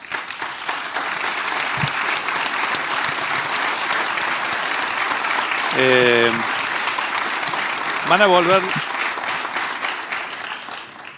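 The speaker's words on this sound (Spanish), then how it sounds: "Yo les agradezco el aplauso" An audience of business people applauds in a hall at a Córdoba stock exchange event, a steady wash of clapping throughout, while voices briefly speak over it.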